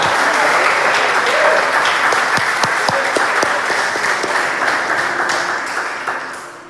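Loud, sustained applause from a congregation at a Portuguese-language church service: a dense roar of many hands clapping with a few sharper individual claps, tapering off gently at the end.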